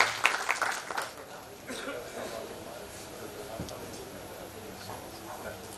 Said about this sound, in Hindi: एक बार जोरदार तालियां सब लोग बजा दें, बहुत जोरदार तालियां।